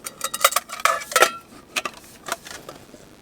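A small camping skillet is handled, producing a quick run of light metallic clinks and taps, close and uneven, several knocks bunched together with short pauses between them and no talk.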